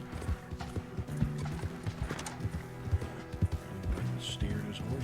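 Rhythmic hoof clip-clops of a horse at a steady walk in a video game, fairly close, with occasional snorts and a brief whinny over a busy game soundscape.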